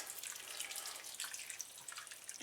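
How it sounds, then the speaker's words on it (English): Boiled water pours steadily into a pot of Welsh cawl, a continuous splashing trickle with small drips, fairly faint and without talking. "top that up with a bit of water, and I'm using boiled water"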